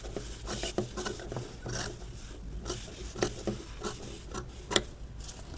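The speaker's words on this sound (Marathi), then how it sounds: "पूर्ण सर्कल असं व्यवस्थित कट करून घ्यायचं." Scissors snip through fabric and sponge while cutting a circle for a stitched samai aasan, giving a series of short crisp cutting and rustling sounds at an uneven rhythm, close by and moderately loud.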